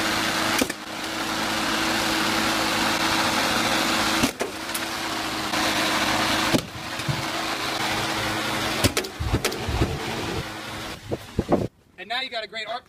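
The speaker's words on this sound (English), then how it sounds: "Throw the spray paint into the lawnmower." A running lawn mower with a spray paint can thrown into it gives a loud, steady engine drone, broken by several sharp bangs and clattering hits before cutting off abruptly near the end.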